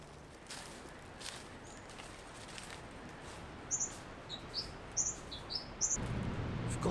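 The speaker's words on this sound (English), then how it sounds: "So there's certainly a lot of bird life in here." Wild birds in coastal bush, with a few short, bright chirps and tweets scattered in the later seconds, moderately close, over a quiet airy outdoor background.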